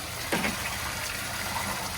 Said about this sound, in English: Just pour it in so lovingly. And I just add this water.